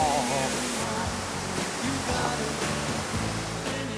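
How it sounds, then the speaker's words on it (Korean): Tetebatu waterfall on Lombok, Indonesia, pours down in a loud, continuous broadband roar of falling water, steady and close with no voices. "테테바트 폭포입니다."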